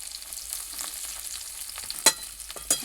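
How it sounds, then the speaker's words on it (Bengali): Chopped onion frying in oil in a pan after bay leaves, a steady close hiss of sizzling with two sharp clinks of a utensil near the end. "এবার দিয়ে দিচ্ছি পেঁয়াজ কুচি"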